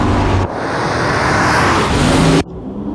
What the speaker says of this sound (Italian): Nuova BMW X5.